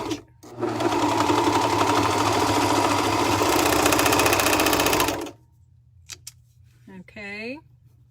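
A serger overlock machine sews along a drawstring bag's fabric edge in one loud, steady mechanical run of about five seconds, then stops abruptly, leaving a faint hum and a few small clicks and rattles.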